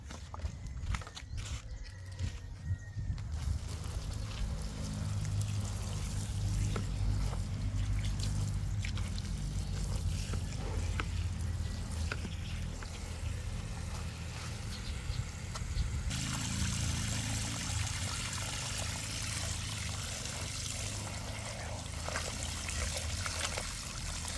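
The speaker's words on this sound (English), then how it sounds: "So now we'll put water, fill the bucket up." Water runs steadily into a bucket holding leaves, soil and compost to brew weed tea fertilizer, a continuous close pouring and trickling stream that lasts over twenty seconds with no let-up.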